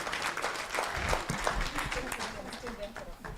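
Audience at a national women's rights organizations conference clapping for departing panelists, a broad wash of applause with voices talking over it throughout.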